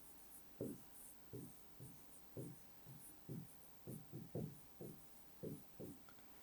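A pen writes on paper in a run of short scratchy strokes, about a dozen bursts in a steady uneven rhythm, close and fairly quiet with no talking.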